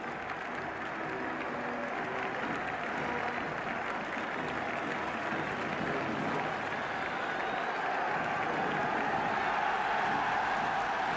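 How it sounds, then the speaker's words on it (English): A big football crowd at the 1971 League Cup Final at Wembley cheers and applauds for Aston Villa, a continuous broad roar of clapping and voices heard from a distance. "Tremendous cheering for Aston Villa."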